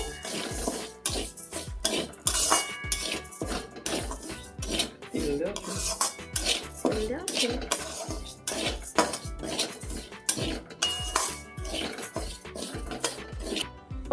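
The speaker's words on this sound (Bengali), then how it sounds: "আমি ডালটাকে ভালো করে এখানে ভেজে নেবো" Lentils for khichuri with minced meat being stirred and fried in a metal pot, with a steady rhythm of spoon scraping and clinking against the sides, near and busy, alongside some clatter of pots and utensils.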